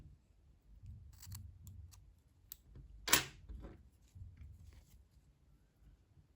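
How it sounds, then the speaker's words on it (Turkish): Scissors snip through thread in a quiet room, with one sharp cut standing out among faint handling clicks. "İpliği kesiyorum."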